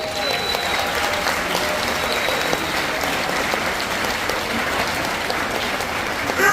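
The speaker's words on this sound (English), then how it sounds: "please raise your hand and accept a round of applause." A large crowd aboard a cruise ship applauds steadily and loudly at a military tribute, a dense wash of clapping that holds at an even level throughout without pause.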